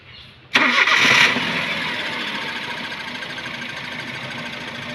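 Car engine cranking and catching at once, a loud abrupt start that settles into a steady nearby idle, with no voices.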